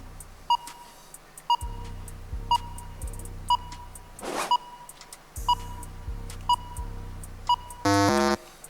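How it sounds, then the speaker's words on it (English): An answer timer on a riddle quiz show ticks with regular short beeps and low pulses, closing with a louder sustained buzzer-like tone near the end, clear and close with no talk. "your timer just beeped"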